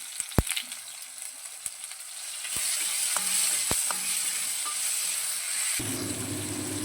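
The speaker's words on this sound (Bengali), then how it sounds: "এবারে আমরা কুচি করে নেওয়া টমেটো দিয়ে দিচ্ছি তেলে" Chopped tomatoes hitting hot oil: a few sharp knocks, then a bright sizzle that swells and holds, with a low rumble entering near the end.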